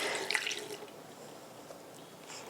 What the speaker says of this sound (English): now I'm gonna add in some warm milk